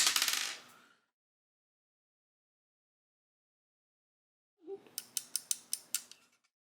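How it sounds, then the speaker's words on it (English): A screw on a sensor's battery compartment cover is unscrewed, giving a quick run of about eight crisp, close ratcheting clicks after a brief rustle and a long stretch of near silence. "Here we are, unscrewing it again."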